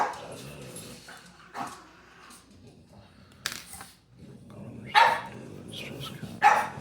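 Dog barking indoors during lock picking of an American 1100 padlock, several sharp barks scattered across the stretch amid quieter clicks and handling, close and moderately loud with a person talking briefly.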